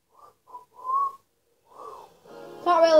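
A person attempts to whistle with breathy, wavering short tones and gaps, close by and alone, ending in a stronger, voiced, buzzy tone.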